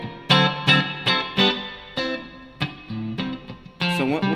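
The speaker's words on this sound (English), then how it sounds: "You can add a compressor to the reverb too" Electric guitar played through a Meris MercuryX reverb pedal with its compressor engaged, with separate plucked notes and chords swelling into a wide, effected tail, close and fairly loud with no voices.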